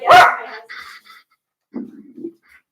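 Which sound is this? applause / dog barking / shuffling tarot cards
dog barking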